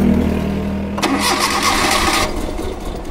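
A Suzuki Jimny with an engine misfire problem cranks on the starter with a loud whirring grind, catching unevenly and sputtering roughly before fading out, close by.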